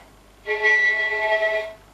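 A single bowed violin note played with weak left-finger pressure, thin and slightly buzzy with a muffled, unclear tone, held steadily for about a second before stopping.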